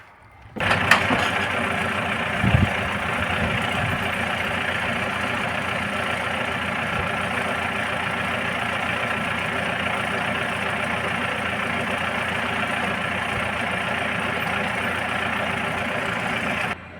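A post hole driver's engine idles steadily outdoors on a vineyard at night, a continuous, fairly loud rumbling drone that runs unbroken for the whole stretch, with no talking over it.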